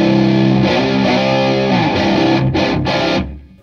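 Doomy electric guitar lead through the distortion channel of a Paul Reed Smith Harmonic Generator amp with gain high, sustained heavy notes ringing loud and alone before cutting off abruptly at the end.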